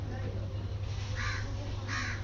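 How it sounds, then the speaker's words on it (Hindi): Crows caw overhead in two short, harsh calls over a steady low hum, with a voice faintly in the background. "कौवे तो नहीं गिन रहे ऊपर जो चल रहे हैं?"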